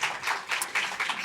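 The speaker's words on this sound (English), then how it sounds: "Join me in welcoming our panelists with a round of applause" Audience giving a round of applause to welcome panelists at a panel discussion: a brief, faint, steady patter of many hands clapping, heard from a distance.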